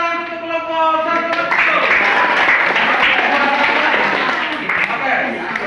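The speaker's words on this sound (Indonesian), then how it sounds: "baik kita tepuk tangan untuk kelompok satu." A school class claps together for several seconds, a dense burst of applause that swells and then tapers, with a voice speaking at the start.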